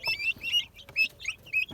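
High, thin peeping calls from young turkey chicks in short repeated bursts, fairly close, with brief pauses between them.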